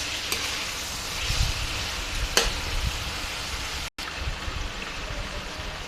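Pork sizzling and frying in a pan while being sautéed for a cheesy caldereta, a steady close crackling hiss with occasional stirring knocks of a utensil, a brief dropout midway, no talking.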